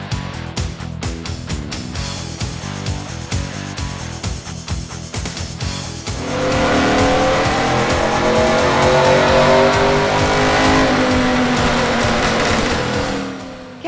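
A supercharged Trailblazer SS engine runs on a dyno, first in a choppy, pulsing idle, then climbing into a loud, sustained full-throttle pull with a rising whine that holds to the end.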